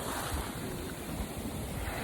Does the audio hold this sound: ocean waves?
yes